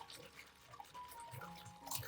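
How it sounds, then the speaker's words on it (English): A hand stirs a detergent solution in a basin of water, giving soft, continuous sloshing and swirling at close range, faint and steady throughout. "use your hands to quickly stir the solution in the basin"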